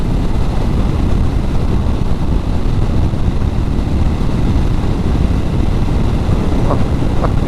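Steady broadband road roar and wind buffeting from a BMW R12 nineT motorcycle riding on dry, traffic-free roads in the Lake District, loud and continuous without letup and no talk.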